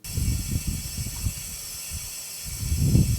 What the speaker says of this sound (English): The sound you are hearing is natural gas flowing through these pipes.